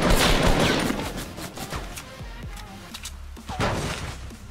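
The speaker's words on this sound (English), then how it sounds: "Is that you guys shooting?" Gunfire in the Fortnite battle royale game, a burst of rapid shots up front, then scattered single cracks and impacts, with another loud burst near the end, over a busy game background.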